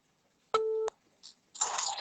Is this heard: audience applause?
no